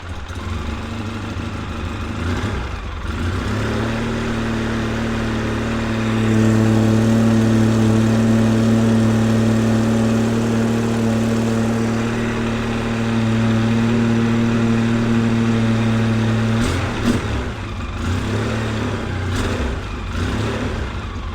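A Polaris Sportsman 700 ATV engine idles steadily while warming up, a loud, close, even drone that rises slightly midway and then settles, with brief handling clatter near the start and end.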